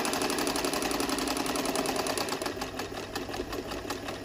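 A New Home 365c sewing machine stitching a buttonhole in reverse, running at a steady fast whir with a rapid even needle rhythm, close and continuous, easing slightly in the second half.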